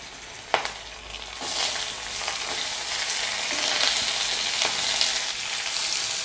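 Dried red chilies, small shallots and garlic fry in oil in a pan for a toor dal curry, a steady close sizzle that swells after a sharp clatter as the ingredients drop in, with a few stirring knocks.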